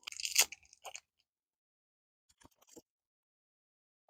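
Soft Chiclets gum from a US MRE being bitten and chewed up close, a short burst of crunchy chewing followed by silence and a few faint wet chews.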